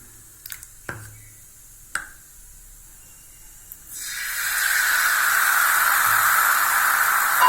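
Vegetable wheat dosa batter poured onto a hot griddle with ghee or sesame oil, a few faint taps first, then a sudden loud, steady hissing sizzle that holds to the end.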